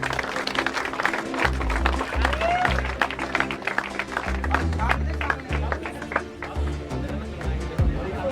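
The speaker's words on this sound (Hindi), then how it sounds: "तालियां तालियां।" A crowd at an outdoor CrossFit race event applauds with dense, continuous clapping, while a loud amplified voice talks over it almost the whole way through.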